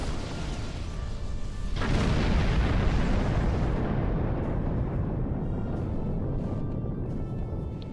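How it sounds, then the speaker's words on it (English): A loud, broad blast bursts in and rolls on as a sustained, roaring rumble that slowly fades, with no voices. "Do love the sound of a big explosion."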